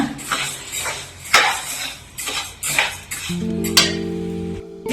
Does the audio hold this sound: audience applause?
no